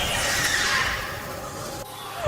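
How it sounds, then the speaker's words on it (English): A horse neighs in the distance within a video game, a faint whinny buried under a steady wash of ambient game noise. "I can hear horses in the distance."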